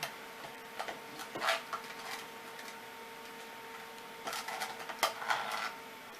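A hand-cranked food mill grinds mulberries, giving rapid ticking, clicking mechanical rattles in short bursts, with a quieter gap in the middle and a steady faint hum underneath.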